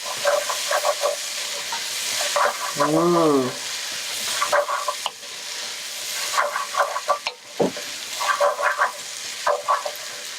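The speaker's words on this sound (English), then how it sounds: "Stir it all around. Get that oil everywhere." Pasta is stirred through oil in a pan on the stove over fairly low heat, giving a steady close sizzle with repeated scraping strokes and a brief higher squeak partway through.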